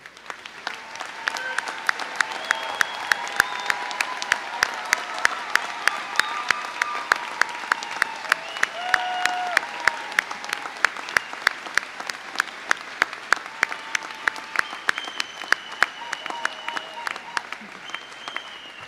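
Award winners stand at a School of Arts and Sciences commencement while the audience gives a long, sustained round of applause, with crisp individual claps and scattered cheering voices throughout.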